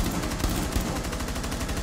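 Rapid automatic gunfire in the video game Rainbow Six Siege, a fast continuous stream of shots at close range, loud and dense with no talk over it.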